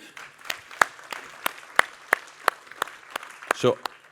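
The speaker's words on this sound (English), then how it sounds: "So also give an applause to Sarah, please." Sparse, scattered applause from a small audience at a private equity and venture capital industry event: distinct individual claps ring out one after another in an uneven rhythm, fairly close and fading near the end, with a brief voice sound.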